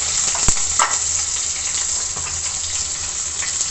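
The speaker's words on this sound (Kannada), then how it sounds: "ಇವಾಗ ಸಾಸಿವೆ ಸಿಡಿತಾ ಇದೆ. ಇವಾಗ ನಾನು ಈರುಳ್ಳಿ ಹಾಕ್ತಾಯಿದ್ದೀನಿ." Mustard seeds spluttering and onions frying in hot oil in a pan, a steady close sizzle with a couple of sharp pops near the start, for a carrot and capsicum chitranna.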